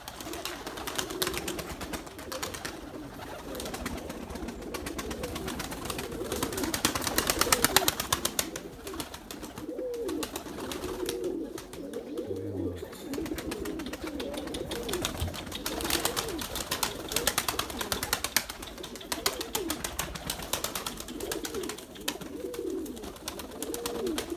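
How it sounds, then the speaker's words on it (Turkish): A loft flock of about 110 pigeons kept for flying coos continuously and fairly close, with soft overlapping calls over steady background noise. "Kuş var bizde arkadaşlar. 110 tane kuş var."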